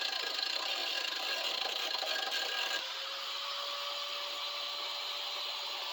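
A metal bar is cut off on a Coleman CT200U-EX trike build, giving a loud, continuous grinding rasp up close that drops abruptly to a steadier, thinner whine about halfway through and runs to the end.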